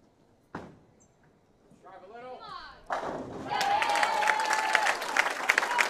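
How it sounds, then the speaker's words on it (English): A bowling crowd at a junior stepladder final bursts into applause and cheering for a junior bowler heading into the tenth frame, preceded by a sharp thud and a brief voice, the clapping swelling and staying loud to the end. "You hear the crowd sending him off here into the 10th frame."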